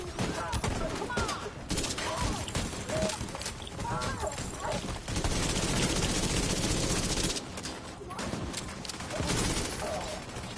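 Rapid gunfire in a PS4 game rattles in dense bursts across most of the stretch, mixed with clattering game effects and someone talking over the action.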